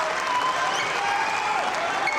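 A crowd at a World Cup table tennis final claps in steady, dense applause throughout, with a commentator's voice running faintly over it.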